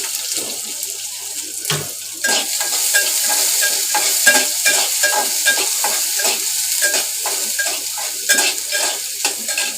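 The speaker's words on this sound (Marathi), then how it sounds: "आता कांदा टाकायचा त्याच्यात।" Onion stir-fried in hot oil with green chillies and curry leaves for okra bhaji, loud close crackling sizzle with rhythmic spatula scrapes and stirring strokes throughout, no voices.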